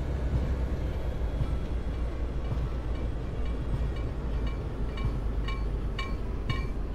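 A Polish SA 134 railbus in a train simulator game rumbles along steadily with a low continuous drone, faint clicks and rattles building toward the end, no talking.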